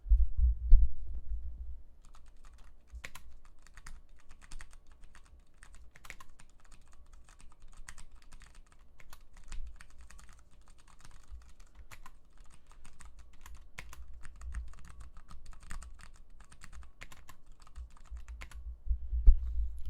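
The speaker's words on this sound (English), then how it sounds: "I'm going to put the mic up to the keyboard now so you can actually hear what they sound like" A Poker 3 60% keyboard with Cherry MX Clear switches being typed on hard, keys bottomed out in a steady stream of soft, muted clacks, close to the mic and fairly quiet, with no talk.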